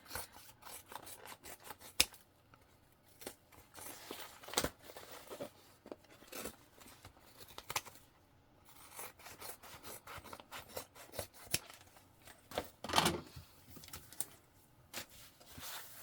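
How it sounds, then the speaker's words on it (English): Handbag seam allowance trimmed with scissors, faint close snips and rasping cuts through fabric coming in irregular bursts with short pauses, no voices. "You can trim your seam allowance down here before you move to the other side."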